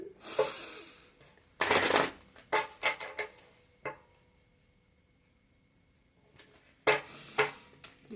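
Tarot cards being shuffled close by in short riffling bursts, with quiet pauses between several brisk flurries.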